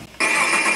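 An RC car sound module on a blue GTR R35 widebody model switches on abruptly after a faint moment, producing a bright, synthetic buzzing engine tone that holds steady and loud with no one talking.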